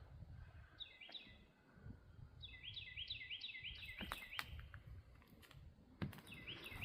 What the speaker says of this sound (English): Nice and quiet back here. Hear all kinds of birds.